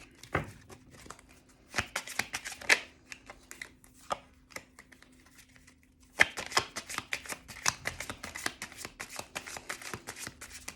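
Tarot cards being shuffled by hand, bursts of quick crisp riffling flutters and slaps, a few scattered at first then a dense run later, close and fairly quiet with a faint steady hum underneath.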